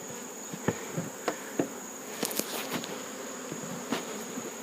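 Honeybees from a strong hive fitted with a beetle-blocker shim buzz outdoors, a steady close insect hum with a few brief knocks and passing louder buzzes over a few seconds.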